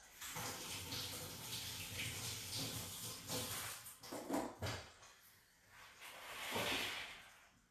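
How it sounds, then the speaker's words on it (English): Water pours into a jar of homemade satay sauce, a steady splashing hiss with a brief swell of running water near the end. "I'm going to put some water in it first."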